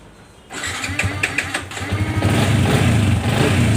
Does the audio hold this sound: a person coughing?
no